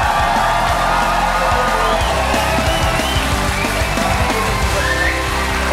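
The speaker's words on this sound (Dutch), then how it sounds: "Mag ik een daverend applaus voor André van Duin!" A studio audience at a Dutch evening talk show erupts in loud, sustained cheering, whooping and applause for André van Duin, a dense roar of crowd noise holding steady throughout.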